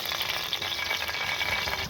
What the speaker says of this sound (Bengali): চলে গেল কড়াতে তেল।